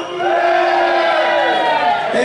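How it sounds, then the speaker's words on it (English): Bristol Rovers supporters at a Sunderland football match on a freezing day let out a loud, sustained cheer and yell, a dense roar of many voices swelling at once and holding before tailing off. "Bristol Rovers fan, give us a cheer now."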